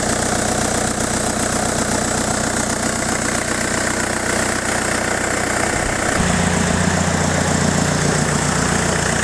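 A Peugeot diesel engine fitted in a Ford idles steadily with a turbo hiss and a low rumbling throb. The tone deepens and changes character about two-thirds of the way through.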